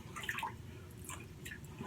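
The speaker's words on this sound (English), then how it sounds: "I'm going to add just a little bit more water here." Water trickles and drips into a shaving soap bowl holding Some Irish Guys shave soap made with Irish stout, faint, close and intermittent splashes over a soft background.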